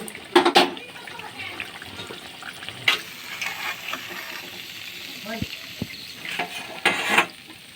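Potato bajji frying in hot oil, a steady close sizzle and bubbling with occasional clatter and stirring noises, continuing throughout.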